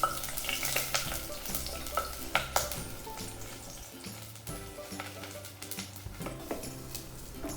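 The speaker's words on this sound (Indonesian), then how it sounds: "Tumis bawang bombay hingga harum." Onion sizzles and sautés in oil in a cooking pot while being stirred, a steady close frying crackle with intermittent scrapes and clinks of the utensil.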